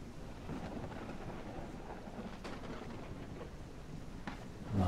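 Thunderstorm in Gothic 1 Unreal Engine, a steady wash of rain with low rolling thunder rumbles throughout and a louder crack swelling right at the end.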